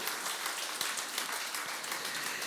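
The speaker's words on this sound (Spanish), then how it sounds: "dele palmas al Rey, por favor. Apláudele fuerte" A church congregation applauds loudly during a sermon, a dense wash of many hands clapping steadily with a few sharper claps standing out, and no voices over it.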